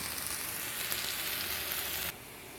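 Chopped garlic and 2-inch pieces of broccoli rabe sauté in a pan, giving a steady, close hiss of sizzling oil that runs evenly and then drops a little in level near the end. Nobody speaks.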